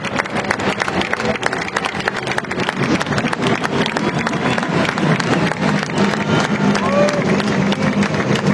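A large trackside crowd at the 2023 24 Hours of Le Mans claps and cheers steadily, a dense wash of applause with a loud, constant babble sustained throughout.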